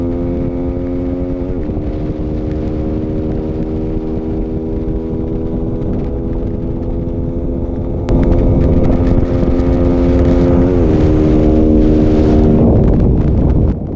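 Yamaha Sniper 155 and Rusi Flame 150X motorcycles race, the stock Sniper chasing: a steady, loud buzzing engine drone with wind rush that swells louder and rougher about halfway through, then shifts pitch near the end.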